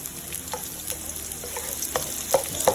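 White onions sautéing in a pan, a steady low sizzle with a few soft stirring scrapes and clicks scattered throughout, fairly quiet and close.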